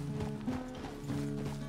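A horse in Red Dead Redemption 2 clip-clops at a walk, with a steady rhythm of close hoof strikes over a low rumble and a soft snorting tone.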